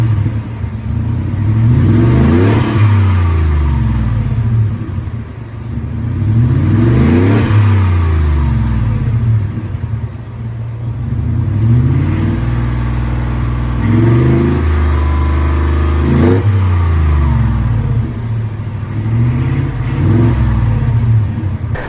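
A 2021 Ford F150 fitted with a Magnaflow 12579 muffler and 4-inch Dynamax tips revs repeatedly, several loud rising-and-falling throttle blips in a steady rhythm with deep rumbling exhaust between them.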